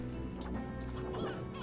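Hens cluck and squawk in the video game Slime Rancher, faint bird calls blended into a dense, steady bed of game music and ambience.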